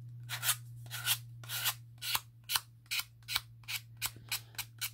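Rhythmic rasping strokes of a sanding block against a wood edge, about a dozen even passes, close and fairly quiet over a low steady hum.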